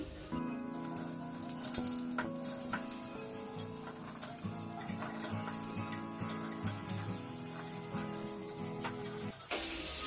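Ponganalu, or paniyaram, cook in a pan over a low flame with a continuous bubbling sizzle and light crackling pops, close and fairly even throughout, with small clinks near the end.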